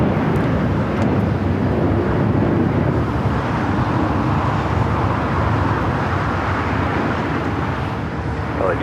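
An airliner taxis at LAX, a steady broad jet rumble mixed with wind and distant airport traffic noise, constant throughout and moderately loud.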